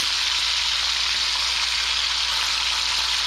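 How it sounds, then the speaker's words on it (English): Bacon fries in a pan as a steady, dense sizzle and crackle, close and even, with no voices. "I mostly care about just getting that bacon cooked"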